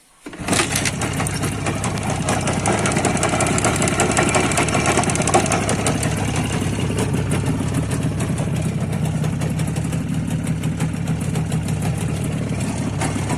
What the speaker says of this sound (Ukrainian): Лівий баняк звенить, аж чути, як поршень десь приклинює